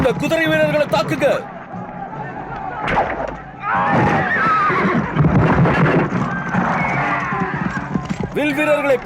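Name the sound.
horses neighing and galloping in battle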